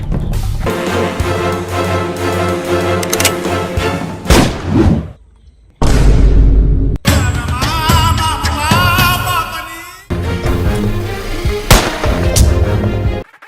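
Gunfire in PUBG: loud, booming shots and thuds layered over a dense game soundscape, broken by a brief near-silence and a sudden restart, close and heavy throughout.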